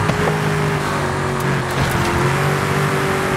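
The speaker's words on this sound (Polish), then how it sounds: "M600 to taka podróbka Bugatti, mówisz? Moim zdaniem najlepiej brzmiący supercar." A loud M600 supercar engine revs steadily in a racing video game, a close, sustained drone with a slight rise in pitch.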